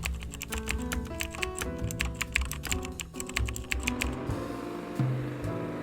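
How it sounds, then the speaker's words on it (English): Someone types steadily on a keyboard while drawing up a contract, producing quick, close key clicks in an uneven rhythm over a soft musical background, with no talking. "He is typing the contract so that we can get to work."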